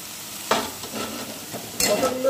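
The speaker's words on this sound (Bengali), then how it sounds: "পটলগুলো দিয়ে আমার ভালো করে কষানো হয়ে গেছে" Pieces of pointed gourd (potol) sizzle in a hot pan of spice paste with green chillies, with a spoon scraping and stirring in short bursts close up.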